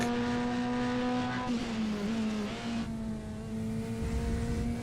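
A Corvette GT3 race car engine in a sim racing game at Road Atlanta drones at high pitch, sustaining a steady whine that dips and shifts as it changes gear, loud and continuous with no talking.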